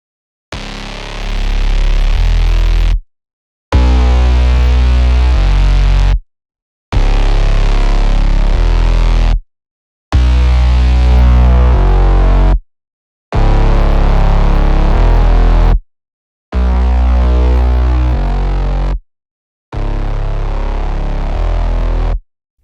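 Future bass synth chords built from layered patches with distortion and glued by heavy OTT multiband compression, played as loud sustained bursts of roughly three seconds each, separated by short silent gaps and with no voice.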